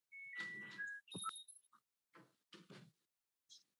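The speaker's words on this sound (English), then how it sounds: "A small bell rings as the door opens and closes." A small bell on a shop door tinkles with a few bright, clear chimes as the door opens and closes, followed by a couple of softer knocks and rattles in an otherwise quiet room.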